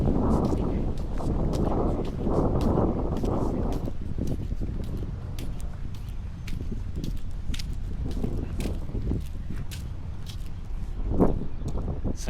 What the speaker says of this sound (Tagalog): Ganyan kahangin dito.